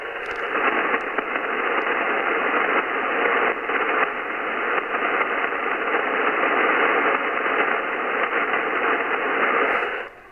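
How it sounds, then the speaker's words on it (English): Steady radio static on the 7.295 MHz ham band, heard while testing ferrite chokes on the receiver: a dense, unbroken hiss lasting about ten seconds that cuts off abruptly at the end, with no voices. "You can hear a lot of static."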